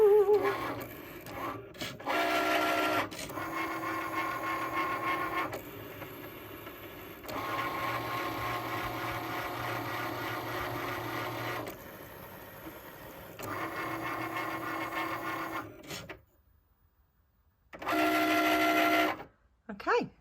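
A vinyl cutting machine slices cut lines around a sublimation print for a mug, giving a steady mechanical whir and scraping in bursts separated by short pauses, with people talking faintly over it.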